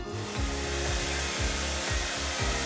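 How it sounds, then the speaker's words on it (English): A hair dryer in a New Zealand hotel room runs continuously at close range, a steady loud blowing roar with a low motor hum that wavers slightly in pitch, with no talking over it. "hairdryer is provided in all hotel rooms"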